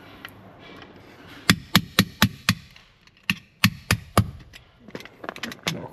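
A small pin punch struck with a hammer to drive out rivets on a handbrake assembly: a series of sharp, close metallic knocks in two bursts, five quick blows then four more, with lighter taps trailing off.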